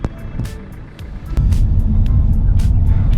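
Car engine idling while warming up outdoors, a steady low rumble that turns louder and fuller partway through as the revs rise, close by and continuous, with no talking.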